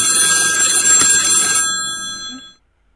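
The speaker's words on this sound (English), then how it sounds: "I think something is ringing and vibrating at the same time." A phone ringtone plays sharp, bright, bell-like ringing tones at close range. The ringing stops abruptly and then fades out to silence.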